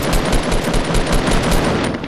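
Rapid automatic gunfire from the video game Fortnite rattles in a loud, close burst of evenly spaced shots lasting about two seconds, with no talking.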